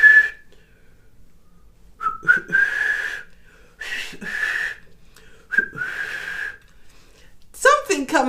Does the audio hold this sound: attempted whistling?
yes